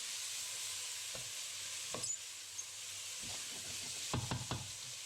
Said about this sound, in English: Give it a good stir to stop the onions from sticking to the bottom of the pan and to help them cook evenly.